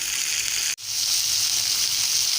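Pieces of fish frying in a pan give a steady, close hiss and crackle of sizzling oil, with one brief dip partway through before the frying sound resumes at full level.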